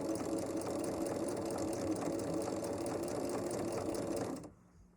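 A sewing machine stitches a seam on a flower for a table runner, whirring in a fast even hum close by before stopping abruptly.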